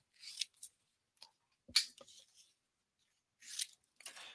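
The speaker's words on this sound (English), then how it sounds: "Trim it away, grab my scissors here." Sharp, brief scissor snips trimming heat-transfer vinyl in scattered bursts separated by silence, a few quick cuts close up, quiet overall with no voices.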